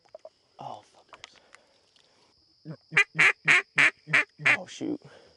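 A run of loud, evenly spaced teal duck quacks bursts out after some faint scattered calls and murmurs, about eight honking quacks in quick succession, during a Nebraska teal hunt.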